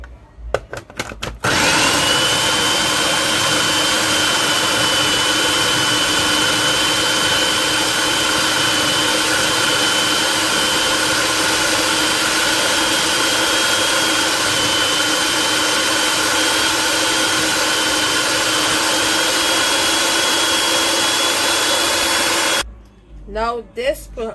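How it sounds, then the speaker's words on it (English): A food processor blending jerk seasoning ingredients, a loud, steady, close whirring drone running for about twenty seconds after a brief start, then cutting off, with handling knocks at both ends. "this food processor, it's not blending the stuff the way how I expected"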